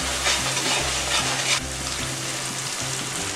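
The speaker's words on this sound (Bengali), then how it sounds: "মশলাগুলো আমি এক মিনিট ভেজে নিচ্ছি" Spices for a koi fish curry with cauliflower frying in a pan, giving a loud, dense sizzle with stirring scrapes under low background music.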